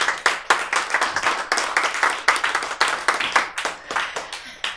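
A small group at a talk or gathering claps in rhythmic bursts, the sharp hand claps coming close and clear in repeated waves, fairly loud with brief pauses between surges.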